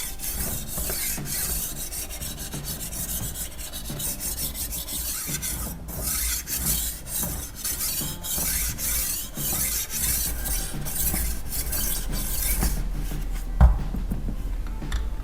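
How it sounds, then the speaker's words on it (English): A kitchen knife is sharpened on the 1000 grit side of a whetstone, giving steady, close gritty rasping strokes that continue throughout without speech. "Now we can switch to the 1000 grit side to polish and refine the edge."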